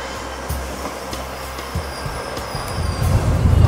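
A train's low rumble builds steadily, with soft clunks early on and a deepening, louder roll toward the end as it gets underway.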